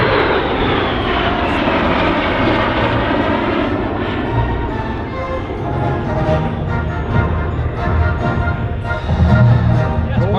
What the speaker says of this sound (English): So Scratch looking right up at the tailpipe of Greg's T-33 as they communicate the turn now, and now you sense the speed.